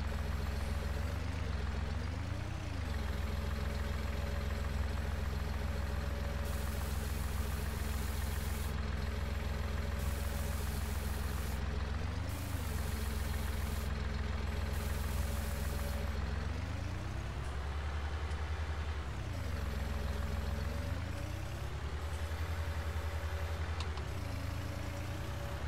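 A telehandler engine in the Farming Simulator 19 game drones steadily throughout, a constant loud idle with the pitch swelling and dropping as it revs during work, no talking.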